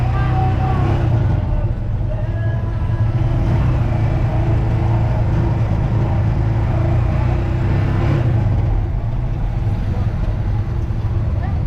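Steady road traffic rumble near a bus terminal, a continuous low drone of passing cars and buses with faint voices mixed in.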